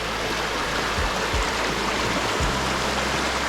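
Rushing water of a river flowing over its bed in Jamaica, a steady broadband wash close by with a few low thumps and bumps mixed in.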